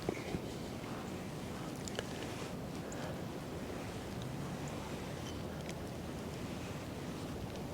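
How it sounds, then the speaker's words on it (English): Strong wind blows outdoors in a steady, loud, unbroken roar with a few faint knocks and ticks, with no talking. "That wind's really picked up."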